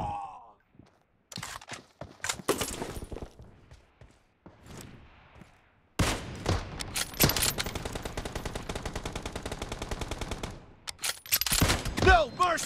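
Bursts of automatic gunfire from the PUBG battle royale game rattle in rapid sustained volleys, with short single shots and pauses between, plus grunts and gasps from game characters.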